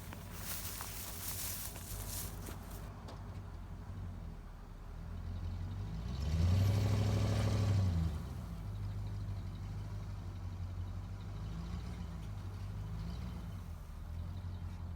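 A car pulls a tow dolly out from under a jacked-up 1953 Buick; its engine idles steadily, then swells in a brief, louder rev midway before settling back to a low idle.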